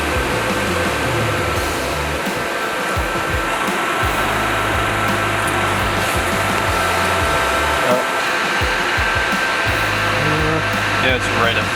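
A 1970 Chevrolet C20 truck engine running steadily after its idle speed was adjusted, a loud continuous mechanical drone with a low rumble and a faint high whine, heard up close for the whole stretch.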